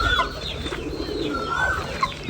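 Chickens cluck and pigeons coo together in a backyard coop, with scattered calls over a soft, busy background.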